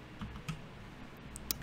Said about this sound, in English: on your keyboard, hold down the Windows key and click R